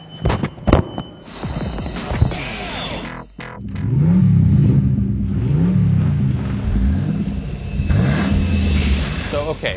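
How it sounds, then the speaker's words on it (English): A combat car revs its engine in a vehicle-combat driving video game, the note rising and falling in repeated sweeps after a few sharp impacts, with talk heard over it. "It's a driving game, but on the car are guns."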